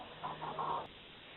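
Backyard chickens clucking near their coop, a few short soft bursts close together, then quiet; no talking.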